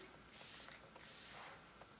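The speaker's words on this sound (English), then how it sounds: "I'm going to set the face with the Hourglass Veil setting spray" Hourglass Veil setting spray misted onto a face in two short, soft hissing bursts with a brief pause between them, quiet and close, with no talking.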